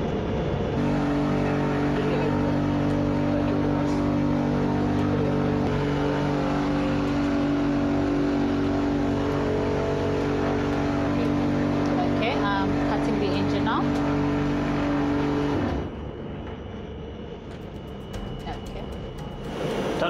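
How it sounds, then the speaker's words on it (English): An engine starting and running at an aeronautics facility, as a loud, steady droning hum with strong tonal harmonics that holds for about fifteen seconds and then abruptly cuts out. "Started the engine."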